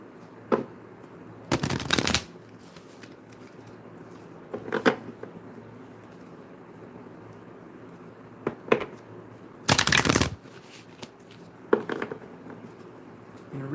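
Large, thick tarot cards being shuffled by hand, heard as several sharp riffling bursts separated by quieter handling and faint room noise.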